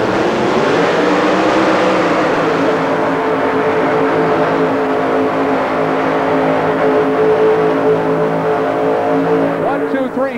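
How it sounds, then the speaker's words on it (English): A 1985 Chevy four-wheel-drive pulling truck with a blown Chevy engine roars loud and unbroken at full pull in an indoor arena, its deep engine note holding steady throughout. "It's an 85 Chevy, as you can see, a blown Chevy engine, and the driver is Kalen Dews"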